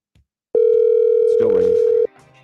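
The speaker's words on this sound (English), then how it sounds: "It's still ringing." A phone line rings out on an outgoing call to the College Sports Commission and NIL Go offices: a single steady electronic ring tone lasting about a second and a half, with brief faint voices under it.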